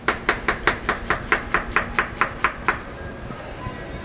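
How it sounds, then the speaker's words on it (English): A knife chops through a fennel bulb on a cutting board in a quick, even run of about eleven crisp cuts, close and fairly loud, then a few softer knocks trail off. "I cut the heart out"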